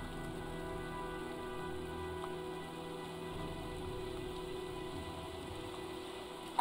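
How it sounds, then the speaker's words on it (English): Steady rain falls throughout a stormy scene in the video game Heavy Rain, a dense, even hiss of drops on surfaces with no talk over it. "looks like a storm's coming"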